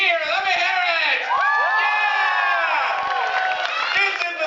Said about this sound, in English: How did a nice big cheer? Let me hear it.